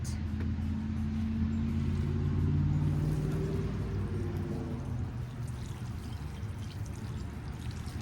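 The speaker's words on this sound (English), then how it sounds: "now I'm just gonna water it really good to make sure all the soil is packed in tight." Water poured onto packed soil in a flower pot planter, a steady pouring and trickling wash with low rumble underneath, continuous and fairly close for the whole stretch.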